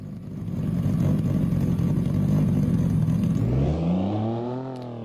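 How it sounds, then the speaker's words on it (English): A cammed 1JZ engine in a video game sound mod runs loud and rough, then settles into a lumpy, loping idle with a rising and falling note. No voices are heard. "Ooh, and that cammed idle is perfect too."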